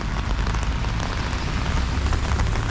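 Rain falls steadily and fairly loudly along a street on a commute in New Zealand, a dense, even patter with no pauses.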